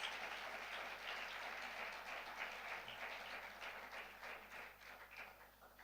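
A church congregation applauds the Lord, dense steady clapping from many hands filling the room for several seconds before gradually thinning toward the end.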